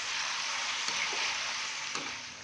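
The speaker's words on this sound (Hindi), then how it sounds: "4 से 5 मिनट के लिए हम अदरक, लहसुन और सब्ज मिर्च के पेस्ट के साथ चिकन की अच्छी तरह से भुनाई कर लेंगे" Chicken fries with ginger, garlic and green chilli paste, giving a soft, steady sizzle with a couple of faint stirring clicks and no voices.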